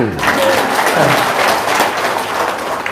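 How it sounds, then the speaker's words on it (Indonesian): Audience applause at a seminar-style talk, a dense steady patter of clapping filling the room, with some voices talking over it. "Tepuk tangan."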